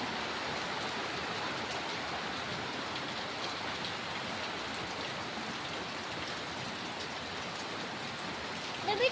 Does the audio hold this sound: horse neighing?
no